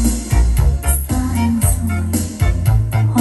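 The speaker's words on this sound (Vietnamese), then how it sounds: "Đây là âm thanh anh em nghe được từ một chiếc đầu CD." Music playing through a Bose 3-in-1 speaker set fed from a CD player, with a steady punchy beat and full, dense sound filling the room, no talking.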